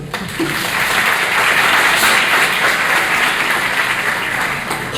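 Seminar audience in Brazil applauding at an event on Africanidades: a dense, loud wash of many hands clapping together, swelling and holding steady for several seconds, with no speech over it.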